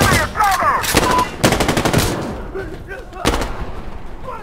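Rapid automatic gunfire from an AK-74M in the shooter game Insurgency Sandstorm comes in loud bursts of quick shots separated by short pauses, with shouted voices mixed in.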